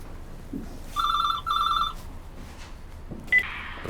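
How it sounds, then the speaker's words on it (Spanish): A telephone rings nearby in two short electronic trills separated by a brief pause, followed by a faint tone, with quiet room background. "Perdón, chino, el teléfono."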